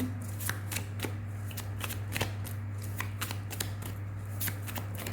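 A deck of tarot cards shuffled by hand, a quick series of crisp riffling flicks and snaps repeating close to the microphone over a low, steady background hum.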